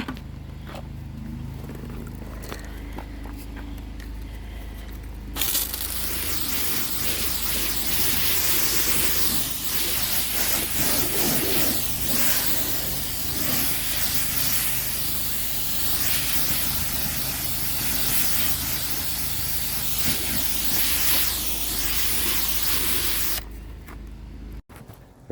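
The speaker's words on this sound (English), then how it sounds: "Now I'm going to give the vehicle a rinse." A strong water spray hisses continuously for about eighteen seconds while rinsing down a car during a mini valet, starting abruptly and cutting off near the end, with quieter ambience before and after.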